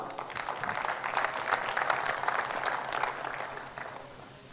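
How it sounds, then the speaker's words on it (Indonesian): An audience at a leadership training seminar applauds steadily for several seconds, a dense wash of clapping at moderate volume that thins slightly toward the end. "Tepuk tangan dulu Anda semua."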